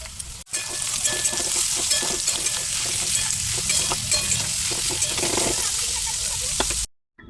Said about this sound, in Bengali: এগুলো হালকা হালকা ভাজা করে নিয়ে তারপর আমি এর মধ্যে গাজর অ্যাড